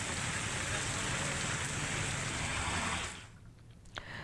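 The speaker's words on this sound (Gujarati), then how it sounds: "ગ્રામ્ય પંથકના મોટી પાનેલી, કોલકી, ખારચિયા, ઢાંક, ગધેથડ, હરિયાસણ સહિતના અનેક ગામોમાં પણ ઝરમર વરસાદ" Drizzling rain in Upleta and surrounding villages of Rajkot district, a steady close hiss of fine rainfall that drops away sharply near the end, leaving quieter patter and a brief knock.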